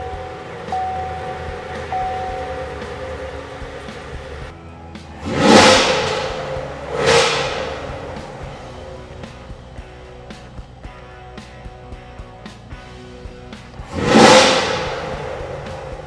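A 2016-2020 Chevrolet Camaro SS with its 6.2L V8 and a BBK Black Series cold air intake is revved three times, two close blips and then a later one. Each rev is loud and rises sharply above a low idle, with no talking.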